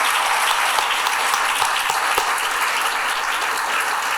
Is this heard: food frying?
no